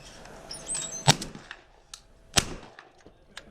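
Two sharp shotgun blasts from a Beretta A300 Outlander semi-automatic at an outdoor clay shoot, about a second and a half apart, each a loud crack with a short fading tail over a quiet background.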